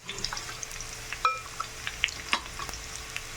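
Onion frying in oil on a tava with chili powder, turmeric and salt sizzles steadily, broken by the scrape and clink of a stirring spoon at irregular moments, close and fairly loud.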